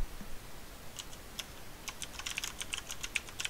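Typing code on a computer keyboard, soft rapid key clicks in an irregular stream that grows busier toward the end, faint and close with no talk.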